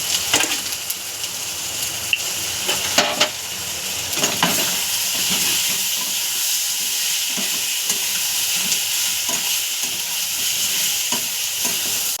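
Raw potato pieces fry in thick spice masala for an egg curry, giving a steady close sizzle and hiss with occasional scrapes and knocks of a spoon stirring the pan; no talking.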